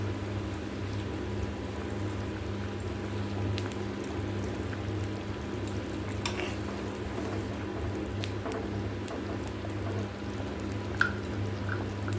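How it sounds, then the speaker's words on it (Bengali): A fish curry (macher jhal) boils in a pan on the stove, giving a steady, close bubbling hiss with a low hum underneath and an occasional small pop. No one speaks. "রান্না কমপ্লিট এখনও ফুটছে"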